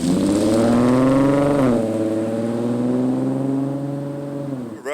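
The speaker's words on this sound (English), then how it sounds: "go fire up the Infinity out there and listen to the new exhaust" An Infiniti car with a new exhaust revs loudly, dips, then holds a deep, throaty drone up close before cutting off.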